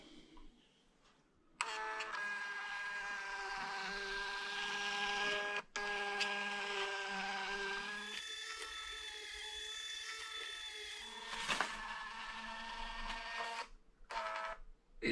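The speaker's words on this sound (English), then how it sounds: "I've made some labels up using a very simple template, and this is for a Bluetooth Fomimo printer" A small Bluetooth label printer runs in bursts, a whirring motor drone with a buzzing tone lasting several seconds, broken by short clicks and brief pauses as labels feed out, fairly close with no speech.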